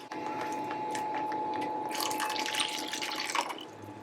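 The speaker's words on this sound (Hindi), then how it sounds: "अभी थोड़ा पानी और जाएगा इसमें।" Water poured into a pan of Hyderabadi mirchi ka salan, a steady close splashing stream with brief brighter gurgles midway, alone without talk, tapering off at the end.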